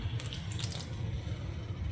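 Water splashes and runs into a pan of potatoes at a camp stove in a canvas bell hot tent, a steady faint wash with low rumble beneath, no voices.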